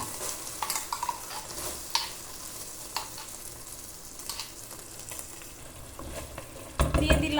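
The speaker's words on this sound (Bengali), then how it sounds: "এখন আমরা রাগুটি দিয়ে দিচ্ছি।" Ragu sauce hitting a hot pan for pasta, a soft sizzle under clinks and scrapes of a utensil against the pan, with a louder burst of stirring at the end.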